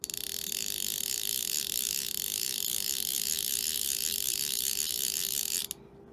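Line stripping steadily off a Greys Fin fly reel, its ratchet drag giving a fast, even, unbroken buzz of clicks for about five and a half seconds before stopping abruptly, close and alone.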